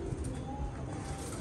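Domestic pigeons cooing, among them tappe pigeons and a bird called Khan sahab's pigeon, as a soft, low murmuring coo under a steady rustle of background noise.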